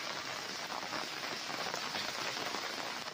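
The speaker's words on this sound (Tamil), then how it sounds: "வளிமண்டல கீழடுக்கு சுழற்சி காரணமாக தமிழ்நாட்டின் பல்வேறு இடங்களில் தொடர்ந்து மழை பெய்து வருகிறது." Steady, dense rain falls during a spell of continuous showers across Tamil Nadu, a constant broadband hiss of drops striking surfaces that holds at an even level throughout with no voices.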